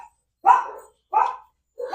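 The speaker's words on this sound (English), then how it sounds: "Somebody must be here because the dogs are going crazy." Several dogs bark in three separate loud bursts, each about half a second long, with short silent gaps between them. The barking comes from indoors or nearby, and no one is talking.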